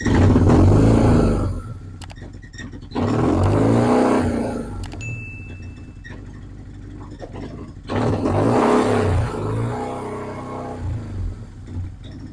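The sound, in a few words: BMW R1100R motorcycle engine running after starting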